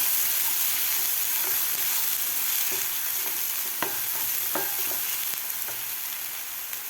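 Green masala paste sautés over a medium gas flame, a loud continuous sizzle and hiss with occasional light scrapes and taps of a spoon in the pan.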